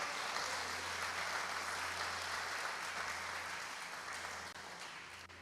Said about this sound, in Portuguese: Você pode aplaudi-lo com toda a tua força?